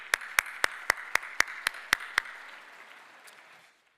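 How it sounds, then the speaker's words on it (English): A holiday luncheon audience applauds, with a crisp run of about nine evenly spaced, sharp claps standing out near the microphone over softer crowd clapping, which fades away after about three and a half seconds. "So give one more round of applause."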